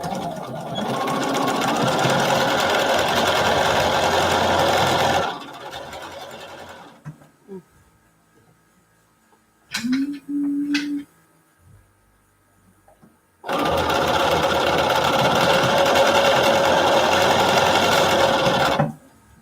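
A sewing machine stitches fabric placemats together in two long, steady runs, with a quiet pause between them broken by a few brief handling clicks.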